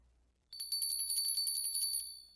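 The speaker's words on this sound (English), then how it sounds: "a jingling of the bells." Small bells jingle in a steady shimmering rattle, starting abruptly after a short quiet pause and continuing at moderate loudness, alone with no voices.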